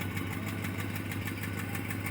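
A car engine idles after a cold start, a steady low, even hum with a faint rhythmic pulse, close and continuous with no other sounds.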